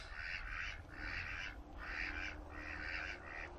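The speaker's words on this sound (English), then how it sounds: "Hey, ducks everywhere." Ducks on a big lake in cold weather quack in a steady series of about five loud bursts, set over a constant low outdoor rumble.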